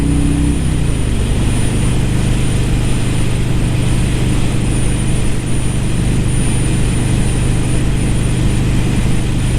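A 2017 Harley-Davidson Road King Special's Milwaukee 8 engine holds a loud, steady low drone at close range, dropping slightly in pitch at the start and then idling evenly.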